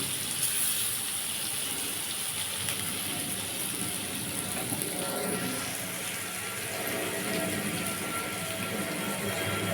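Brinjal pieces frying uncovered in a pan for a Bengali neem-brinjal dish, a continuous close hissing sizzle with light popping and a slight swell partway through, no voices.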